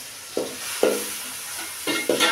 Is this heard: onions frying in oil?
yes